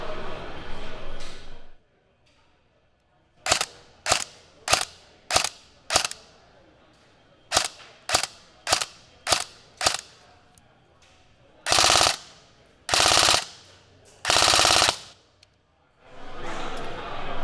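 A CYMA AR 47 airsoft rifle's gearbox and motor, recorded up close, fire a run of about a dozen sharp, evenly spaced single shots, then three longer full-auto bursts, with someone speaking briefly at the start and end.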